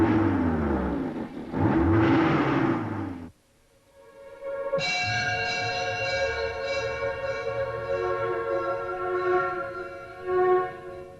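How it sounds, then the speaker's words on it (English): Car engines rev in a British period drama, a deep rumble swelling and fading, then a steady whirring engine note that drones on at moderate loudness under a rising musical tone. "They'll rev the engines."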